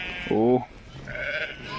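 Sheep bleat close by on a farm, one sharp wavering bleat followed by a longer, higher one, with a voice talking faintly in the background.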